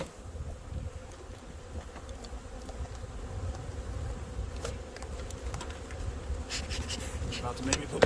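Loose honey bees drone in a dense, continuous buzz during a late February hive inspection on a mild day, close and steady, with occasional light knocks and scrapes of frames.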